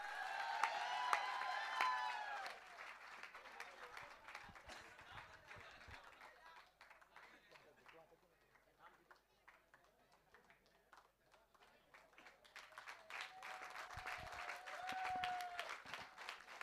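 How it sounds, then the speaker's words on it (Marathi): Crowd applause at a cricket tournament prize distribution comes in two broad bursts, at the start and again near the end, with a voice talking through the quieter middle. "रोशन नाझरे यासाठी एकदा जोरदार टाळ्या वाजवा मित्रांनो"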